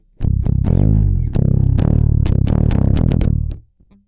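A distorted bass guitar plays a loud, close riff: sustained low notes, then rapid picked chugs and a descending walk-down, ending abruptly with a short trailing note.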